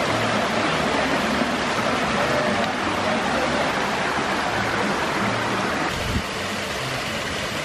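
A local waterfall in Puerto Rico roars as a dense, continuous rush of falling water, loud and close, with no clear voices over it.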